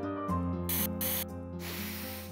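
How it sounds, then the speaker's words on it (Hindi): A perfume atomizer gives two distinct hissing sprays in quick succession, close and clear over steady background music in a Hindi-dubbed South Indian movie scene. "Angel spray."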